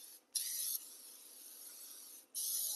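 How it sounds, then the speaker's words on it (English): Two short bursts of pump-spray hiss from a spray bottle in a home kitchen while a Fourth of July peach and cherry pie is being made, each bright hiss lasting about half a second, close and fairly quiet with no talk. "Just want to spray that down."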